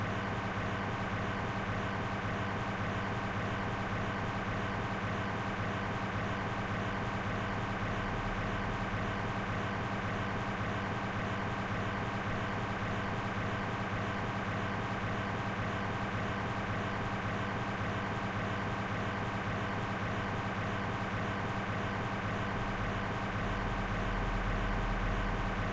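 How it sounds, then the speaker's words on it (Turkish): An unchanging engine drone from a car in The Long Drive loops on and on, steady and loud, with no variation in pitch or rhythm and no voices. "Sürekli aynı motor sesi çünkü, aynı döngü."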